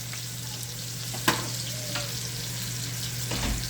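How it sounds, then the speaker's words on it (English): Bacon grease and oil sizzle in a pan while being stirred together, a close, even hiss broken by an occasional sharp clink of the utensil against the pan and no voices. "I'm gonna throw a scoop of bacon grease in there. We're just mixing up all the oil."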